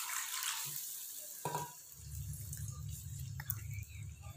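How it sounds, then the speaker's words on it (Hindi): Water is poured into a non-stick pot with a glass lid while making chicken pulao, a soft steady splashing and bubbling that fills the pot after a brief clatter, heard up close. "तो इसमें हम 3 प्याली पानी ऐड करेंगे"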